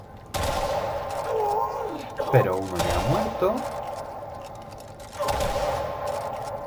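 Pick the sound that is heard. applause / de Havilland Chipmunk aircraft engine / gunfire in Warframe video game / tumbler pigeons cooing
gunfire in Warframe video game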